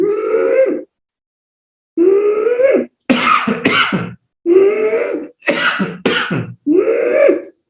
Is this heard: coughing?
yes